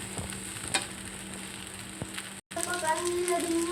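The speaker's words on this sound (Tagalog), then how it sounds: "Yan, guys, sinalo-halo ko na" Food sizzles and crackles in a hot pan while being stirred, with scraping and clinks of the utensil; a brief dropout interrupts the steady frying noise, which turns brighter and more active afterward.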